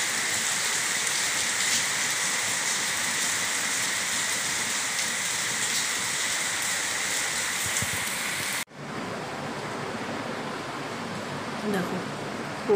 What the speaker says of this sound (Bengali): দেখো কীরকম বৃষ্টি পড়ছে, বুঝতে পারছো? তার সঙ্গে ঝোড়ো হাওয়া।